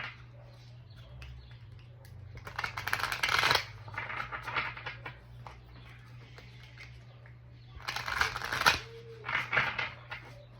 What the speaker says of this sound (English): I'm gonna cut the deck.